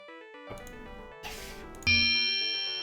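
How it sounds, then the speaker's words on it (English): A bell sound in the Christmas video game Santa's Secret Valley: a few bright chiming tones, then a louder ringing strike that holds and slowly fades, with no speech. "There's our bell sound."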